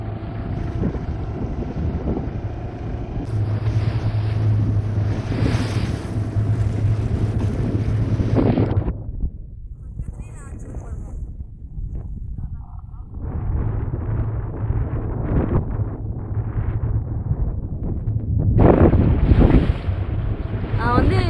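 A fishing boat heads out from the shore to sea, its engine droning under heavy wind buffeting and splashing waves, with a brief quieter lull midway before the rushing noise returns.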